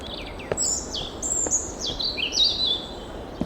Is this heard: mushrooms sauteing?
no